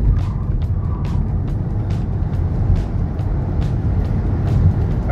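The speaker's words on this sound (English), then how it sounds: "These tires make a lot of noise" Loud, constant road rumble of tires rolling on pavement inside a moving car on a race track. A deep, steady drone is broken by faint ticks and small bumps.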